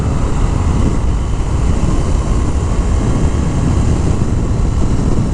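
A 2019 Indian FTR 1200 S motorcycle engine roars loud and steady, a continuous close-up drone with no talk over it.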